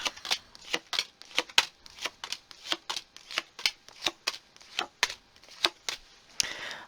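Tarot cards are shuffled by hand in a close, crisp series of riffling snaps, about fifteen quick bursts in a fairly regular rhythm with no talking.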